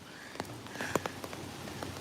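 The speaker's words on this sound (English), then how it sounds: "we out here in the rainforest, literally, because we in the forest and it's raining." Rain falling in a forest, a steady soft hiss of drops with scattered sharper patters and splashes hitting nearby surfaces, fairly close and continuous throughout.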